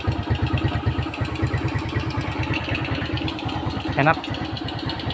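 A Suzuki Smash motorcycle fitted with a new Verza piston set idles with an even, throbbing engine pulse and gives a short rev near the end, while someone speaks briefly over it.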